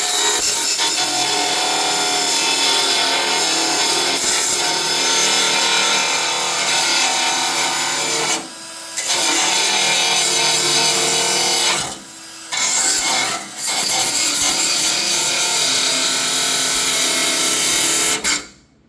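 A belt sander grinds steadily against wood, a loud continuous abrasive whir that briefly drops out a few times as the tool lifts, then stops at the end.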